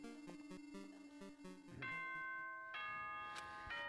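In the Danganronpa 2 video game a ding-dong chime sounds as a few clear bell tones ringing over soft background music, with no talk.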